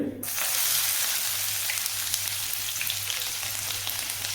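Two small onions frying in hot oil, a loud, dense, steady sizzle that bursts in suddenly and holds evenly close by, with no talk.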